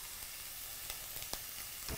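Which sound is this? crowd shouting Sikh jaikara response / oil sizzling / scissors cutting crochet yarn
oil sizzling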